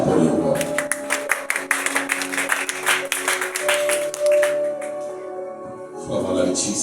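A crowd claps in a quick, steady rhythm to acclaim the king, the sharp handclaps running for several seconds under a singing, speaking voice before thinning out.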